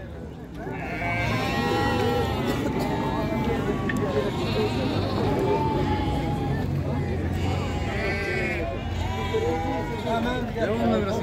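Sheep bleat repeatedly at a livestock market in Füzuli, Azerbaijan, with several overlapping calls over a constant crowd babble and people talking nearby.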